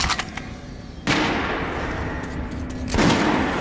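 Two sharp gunshot reports in the first-person shooter Metro Last Light Redux, each followed by a lingering noisy tail over a steady low game ambience, loud and close, with no speech.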